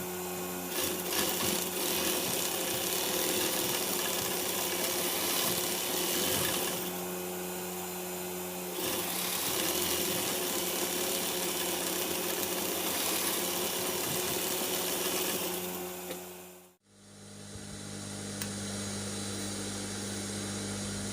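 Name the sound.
sewing machine stitching a waistcoat with 1/2 inch seam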